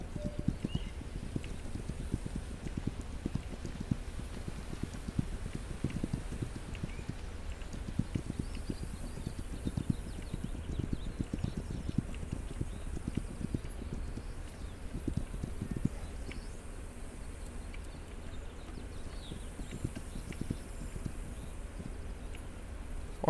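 Horse hooves clip-clopping in the video game This Land Is My Land, a steady dense patter of hoofbeats over a low rumbling background, continuous and fairly close throughout, with no talk.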